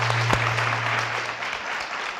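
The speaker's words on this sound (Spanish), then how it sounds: "Un aplauso para Daniela." An audience at an image conference claps for a guest, a dense, steady round of applause from a roomful of hands with a faint hum beneath, sustained at even volume from start to finish.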